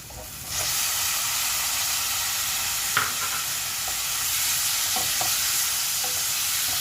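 Chicken gravy masala with ginger-garlic paste fries in a pan, giving a steady, loud, close sizzle with scraping stirs and a few sharp clinks of the spoon against the metal.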